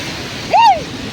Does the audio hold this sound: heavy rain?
yes